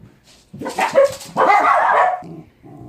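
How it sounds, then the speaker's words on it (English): A dog barks and yips indoors at close range, several loud excited barks followed by whimpering, with no one talking. "I'm going to end up having to cut my videos short because of barking"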